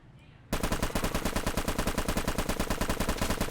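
Sustained rapid automatic fire from an UZI submachine gun in the video game Life After, loud and close, a dense rattling burst that starts abruptly after a quiet moment and runs without pause.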